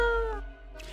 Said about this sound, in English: Meow, Lady Portington adds a sound of compassion.